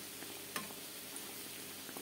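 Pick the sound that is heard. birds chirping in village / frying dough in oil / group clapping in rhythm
frying dough in oil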